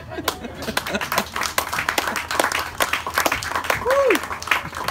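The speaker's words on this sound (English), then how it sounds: "Give another round of applause." Applause from a comedy show audience, scattered, fairly close individual claps in an uneven rhythm that continues through the five seconds, with a voice cutting in briefly near the end.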